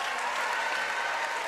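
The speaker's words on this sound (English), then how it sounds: "Jacob Gibson getting a big cheer from the crowd" A crowd cheers and applauds for basketball player Jacob Gibson at a Grand Final game between Ringwood and Waverley, a dense, steady roar of clapping and cheering that fills the whole moment without a break.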